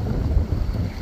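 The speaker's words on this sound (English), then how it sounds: "Wind just keeps picking up and it's impossible to cast" Gusty wind buffets the microphone beside a canal, a low rumbling roar that fills the short moment.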